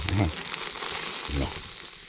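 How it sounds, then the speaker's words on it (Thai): Pork grilling outdoors in a rice field on a cold misty morning, a steady close sizzle and crackle of fat with low thumps of handling. "ก็ย่างเนื้อไป"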